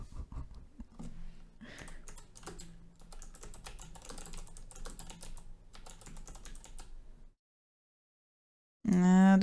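Fast, continuous clatter of typing on a computer keyboard while playing Personal Nightmare, close and steady for several seconds before stopping, followed by a brief loud burst of other sound.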